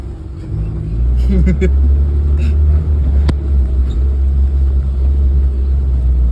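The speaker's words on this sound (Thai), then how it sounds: "ตอนนี้รอบเครื่องอยู่ที่สองพันนะครับ" A Suzuki Jimny engine idles steadily at around 2000 rpm, a loud continuous low rumble heard close from inside the vehicle, with a few faint clicks and rattles over it.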